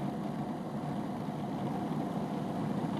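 A Cuisinart FP-14DC Elite Collection food processor kneads yeast dough, giving off a steady, even motor drone throughout, with no talking.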